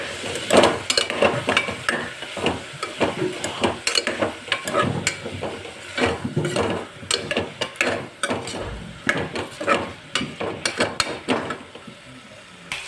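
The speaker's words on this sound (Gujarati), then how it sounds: "હવે આપણે બધું જ મિક્સ કરી દઈશું" Masala being mixed into a brinjal and papdi vegetable curry in a cooker, a close series of irregular scraping and clattering spoon strokes over a light sizzle, with no voices.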